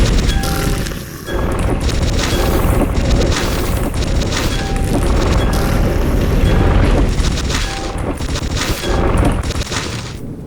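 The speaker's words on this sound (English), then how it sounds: "He hears the noise of the three-headed lava worms." Deep, rumbling roar of three-headed lava worms in the video game Hell Hunter 2, a loud, continuous booming churn with crashing bursts that barely lets up throughout.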